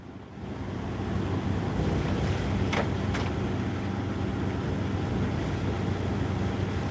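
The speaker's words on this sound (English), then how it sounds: "But this wind's something else here." A strong Florida hurricane wind roars continuously and loudly close to the microphone, a dense, steady rush with no letup and a couple of faint higher whistles in the middle.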